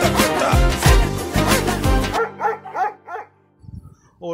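A dog barks repeatedly over a rhythmic song remix beat, then a few separate barks and yips ring out alone once the music cuts off.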